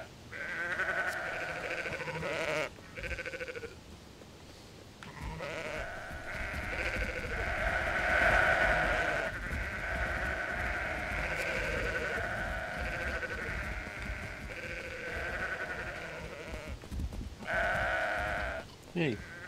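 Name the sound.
sheep bleating in Sudeki video game herding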